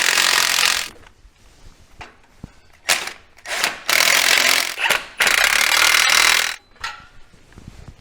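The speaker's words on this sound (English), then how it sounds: "Let me tighten my tailpipe." A ratchet tightens the tailpipe clamp on a stainless exhaust for a 2021-2024 Suburban/Yukon with the 6.2L engine, giving loud bursts of rapid clicking that start and stop several times, broken up by short pauses and handling noise.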